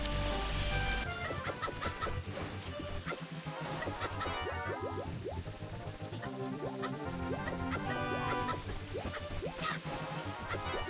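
Chicken clucking in the video game The Legend of Zelda: Ocarina of Time, repeated squawks and clucks over game music and effects at a moderate level.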